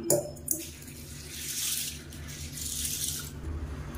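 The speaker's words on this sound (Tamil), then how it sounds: "இப்போ நல்லா ஒரு 3-4 தடவை பிசைஞ்சு விட்டு நல்லா கழுவி எடுத்துக்கலாம்" White sorghum grains are rubbed and rinsed by hand in a bowl of water, giving soft sloshing and swishing in repeated waves with a light rattle of grain, close and fairly quiet.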